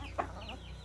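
A rooster gives a single short cluck, close and fairly faint, over a steady low background hum.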